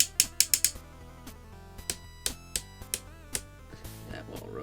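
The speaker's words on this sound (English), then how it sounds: "Shoulders are on nice tight ratchet joints." Tight ratchet joints on the shoulders of a Hasbro Transformers Age of the Primes Superion toy click sharply, with a quick burst of close clicks at the start and then single clicks spaced through the rest, over a faint background.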